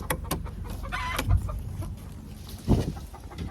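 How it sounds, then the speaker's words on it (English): Chickens cluck in short bursts over a low rumble of wind on a bitterly cold, subzero day; the calls are fairly close and a few seconds apart. "I need to get some feed for these chickens"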